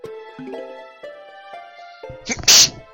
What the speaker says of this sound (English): That is the third video that I'm sneezed in today.